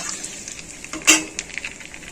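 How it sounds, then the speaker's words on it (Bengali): Panch phoron spices fry in oil left over from shrimp, giving a soft, steady sizzle with one brief louder crackle midway. "আমি এই তেলেই পাঁচফোড়ন দেব। পাঁচফোড়নটা একটু ভাজা ভাজা হোক।"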